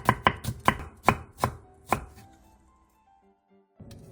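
A knife chopping green onion diagonally on a cutting board, seven crisp close taps at an uneven pace, then quiet kitchen sounds.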